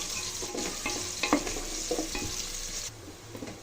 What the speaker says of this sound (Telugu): ఆయిల్ హీట్ అయిన తర్వాత ఆనియన్స్ వేసి ఫ్రై చేసుకోవాలండి